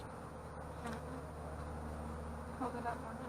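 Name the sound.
honey bees buzzing during a beehive inspection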